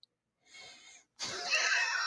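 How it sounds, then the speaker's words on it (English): A person coughs indoors in two rough, breathy bursts, the second louder and longer, with no talking. "I had to cough."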